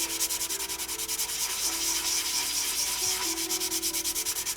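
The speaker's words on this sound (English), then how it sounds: "Now I'm going to take a brand new edge of the sandpaper again." Sandpaper rubbed by hand over a motorcycle fairing, a loud close rhythmic scratching in quick even strokes that runs continuously with no talk.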